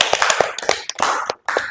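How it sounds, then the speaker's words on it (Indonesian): A classroom group claps hands together, close and fairly loud, dense overlapping claps that run for under two seconds with a brief gap near the end. "Oke, kasih tepuk tangan dulu."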